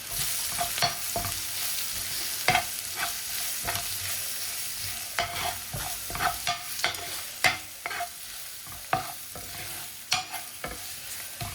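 Onions and ground masala fry and sizzle steadily in a pan, with a spoon scraping and stirring in repeated sharp strokes, close and clear, and no voices.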